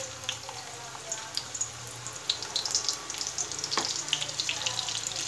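Finely chopped medium onion frying in hot oil in a wok for dry fenugreek leaf bhaji, a close, steady crackling sizzle with busy popping that grows a little denser toward the end.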